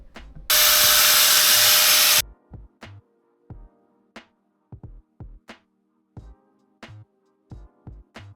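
A power tool cuts through the brake heat shield on a Nissan G35 during an Akebono big brake kit install: one loud burst of about two seconds, followed by a string of sharp metallic taps and clanks.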